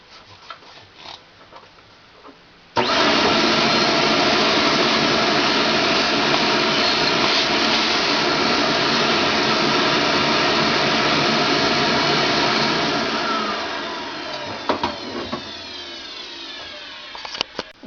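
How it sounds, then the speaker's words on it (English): A vacuum cleaner sucks metal chips off a freshly milled part, switching on abruptly and roaring loud and steady for about ten seconds before winding down, with clinks and rattles of chips and handling around it. "we're going to clean off the chips with a vacuum"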